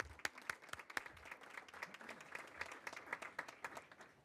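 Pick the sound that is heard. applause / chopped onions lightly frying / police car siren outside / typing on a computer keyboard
applause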